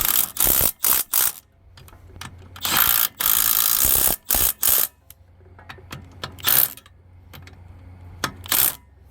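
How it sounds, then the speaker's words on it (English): A 1/4 inch impact gun driving bolts on an MTD snow thrower, firing in short loud rattling bursts with quiet gaps between them, close by, with ratcheting and clinking in between and no talking. "I'm using a 1/4 inch gun, which doesn't have all the power like the 3/8 one does."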